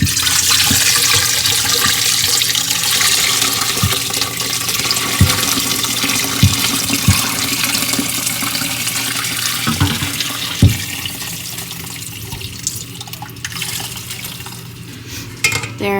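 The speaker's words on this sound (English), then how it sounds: "now I'm gonna strain it in there." Homemade bone broth strained and poured, a continuous splashing liquid stream close by with a few knocks and clinks, slowly easing off toward the end.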